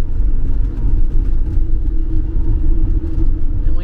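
A car on the road, with Curt at the wheel, drives toward the city on a van-life trip in Panama; a steady low engine and road rumble runs throughout, close and continuous, with no talk.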